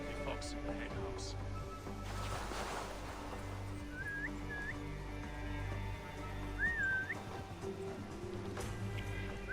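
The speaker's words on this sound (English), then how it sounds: "the whistle's doing nothing" Whistle in Assassin's Creed Valhalla, several short rising whistled notes sounding faintly over a sustained ambient game drone and a brief rush of noise.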